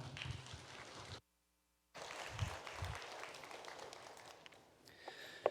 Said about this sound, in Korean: 우리 박수로 목사님을 모시겠습니다.